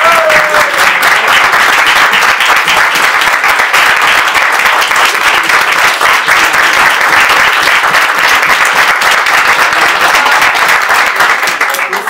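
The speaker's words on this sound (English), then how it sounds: "So can we just give him another round of applause?" A roomful of guests at a college culinary arts program exit dinner applauds a retiring culinary instructor, loud, close, sustained clapping that stays dense and steady for the whole stretch, with no speech over it.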